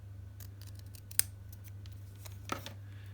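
Scissors trimming a small paper tag for a junk journal, two crisp snips close by over a steady low hum.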